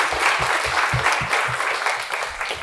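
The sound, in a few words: audience applause for the panelists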